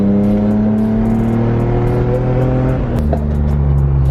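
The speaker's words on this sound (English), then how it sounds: "The V12 just sounds insane." A powerful V12 engine in a Lamborghini Aventador roars nearby, pitch climbing steadily, then a sharp gear change and it pulls hard again, loud throughout.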